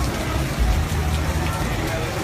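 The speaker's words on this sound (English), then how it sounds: "how beautiful is this rainy night in Austin?" Rain falls steadily on a night in Austin, a soft even patter over a low rumble, with a murmur of voices underneath.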